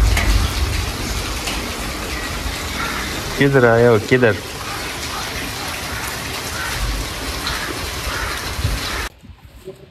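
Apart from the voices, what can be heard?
heavy rain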